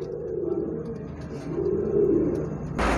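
Pedigree pigeons (Rampuri, Surkhy, Ferozpuri and Teddy breeds) coo in low, rolling, continuous calls close by, with a brief rustling burst at the very end.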